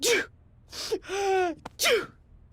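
A woman sneezes several times in quick succession, each one a sharp breathy burst with a voiced gasp, close and fairly loud with short quiet gaps between them.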